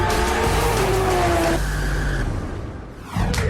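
A car's tires squeal loudly as it pulls away and revs close by, and then the sound fades briefly before the engine surges again.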